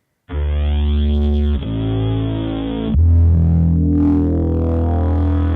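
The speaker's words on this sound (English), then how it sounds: "So now it gives it that like rising filter sound." A sustained, distorted synth tone with a Logic auto filter preset that sweeps upward, brightening the sound as it goes, with a thick chorused, buzzing texture throughout.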